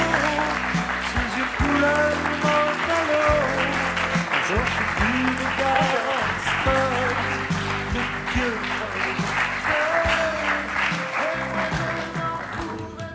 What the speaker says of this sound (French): Merci d'applaudir Patrick.